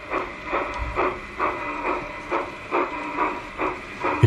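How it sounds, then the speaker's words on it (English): A G-scale model train runs jerkily along oxidized outdoor garden track, giving a steady train of rhythmic clicking pulses about every half second over a faint hiss, close and moderately loud, with no talking. "It'll either run very jerky or stop altogether."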